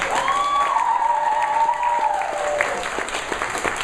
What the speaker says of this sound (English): let's give a big round of applause for Blue, who's been down.